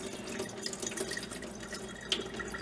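Liquid being poured off tomato pulp trickles and drips continuously, a faint, close wet splashing with scattered small drops and no speech.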